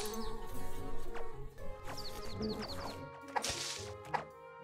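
Bees buzzing in Secrets of Grindea, several short rising buzzy chirps in quick succession among game clicks and thuds, fairly close and moderately loud.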